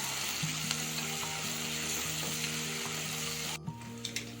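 Onions sautéing with salt in a pan while making egg biryani: a steady close sizzle of frying with faint stirring clinks, running without talk, then a few clear scrapes of the spoon near the end.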